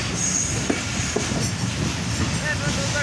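Banglabandha Express train leaving Parbatipur Junction in Rajshahi, heard as a steady, fairly loud rumble of railcars rolling on the rails with a couple of faint clicks and a thin wheel squeal above it.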